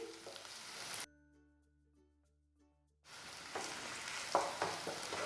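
Ginger and garlic paste sizzles loudly in a hot pan for cabbage, pea and potato stir-fry, cutting out into near silence for two seconds with a low hum before the frying returns.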